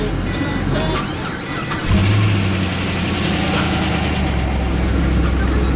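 A 6.0-litre LS2 Corvette V8 fitted in a salvage Lamborghini Huracan starts with a brief squeal, then settles into a steady, close idle. There is some faint background noise.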